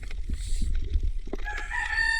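A rooster crows over a low rumbling background, its drawn-out call rising clearly in the second half.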